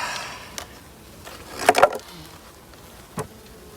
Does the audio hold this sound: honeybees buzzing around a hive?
yes